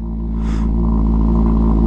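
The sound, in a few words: Ducati Panigale SP2 motorcycle engine starting and revving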